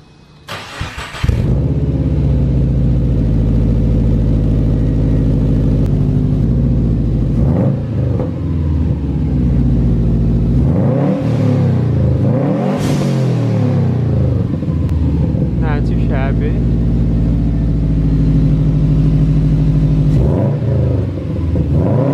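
A 2008-2014 Subaru WRX on its stock exhaust starts up and then rumbles at idle, punctuated by several sharp revs that rise and fall. The engine sounds close and loud, with no talking.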